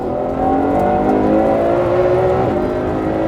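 Ferrari 812 Superfast V12 engine speeding up, a loud close rising growl with climbing harmonic pitch that swells over a few seconds, alone without talk.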